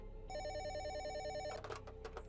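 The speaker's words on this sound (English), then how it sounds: "The phone rang again." A telephone rings loudly in a warbling electronic trill that cuts off after about a second, followed by a few short clicks and crackles, with no voices.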